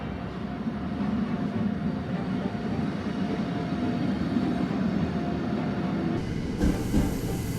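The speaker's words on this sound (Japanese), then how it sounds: "おっと、ちょうど近郊列車が発車しましたね。" A commuter train departing a station in Austria rumbles steadily at moderate distance, a low continuous drone with faint rail noise, no voices.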